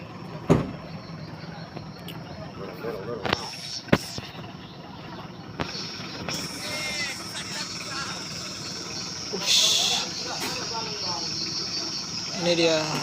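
Mitsubishi L300 pickup truck engine revving as it struggles up a slope made slippery by spilled palm oil, a steady strained drone with brief surges, under excited talking from onlookers.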